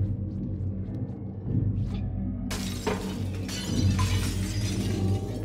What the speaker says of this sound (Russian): Можем стекло разбить?